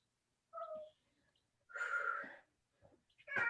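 A cat meows twice up close, each cry drawn out and clear, then a shorter third call starts at the end, with quiet pauses between.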